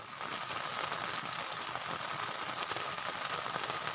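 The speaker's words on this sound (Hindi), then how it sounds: "बाहर देख सकते हो आप लोग कितनी तेज़ सी बारिश हो रही है" Heavy rain drums steadily on the fabric of a camping tent during a downpour, a dense, constant hiss of drops close by with no pauses and no talking.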